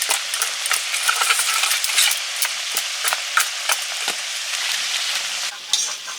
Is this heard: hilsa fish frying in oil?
yes